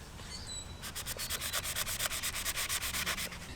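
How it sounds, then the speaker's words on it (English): A steel knife blade from a Demko knife being hand sanded to a satin finish, with about a dozen brisk rhythmic back-and-forth strokes, close and scratchy, after a short quiet start. "I'm just going to sand that up, get it nice and clean"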